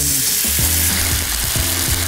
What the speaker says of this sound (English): And that's when you pour water.